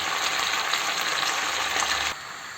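Chicken and vegetables sauté in a hot pan with a loud, steady, close sizzle and crackle, which cuts off abruptly and leaves a quieter hiss.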